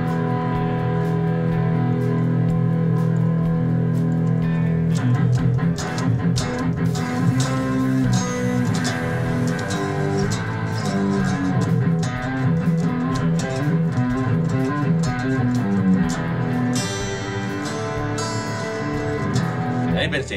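Fender Stratocaster played through a simulated Mesa Boogie Dual Rectifier amp, giving a dense, continuous distorted guitar tone with busy picked notes and chords at steady high volume for about twenty seconds, with no talking.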